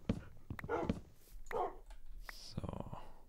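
Tamed dogs in Minecraft give short, close barks and a thin whimper in separate bursts, mixed with a voice talking between them.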